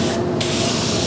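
A continuous, close hiss of a spray gun applies paint to a Honda NSR motorcycle body part, a steady airy rush throughout with a brief dip in the highest tones.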